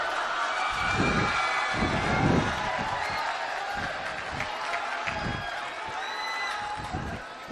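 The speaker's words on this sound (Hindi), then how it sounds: "जोरदार तालियों से इनका स्वागत कीजिए।" School audience applauding and cheering to welcome a politician character in a school drama, a steady crowd wash of clapping with a few louder bursts throughout.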